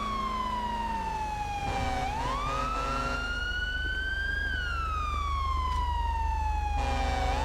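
A loud video game police siren wails continuously, its pitch sweeping slowly up and down in long rising and falling glides, close and unbroken.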